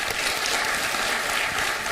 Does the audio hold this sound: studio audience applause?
yes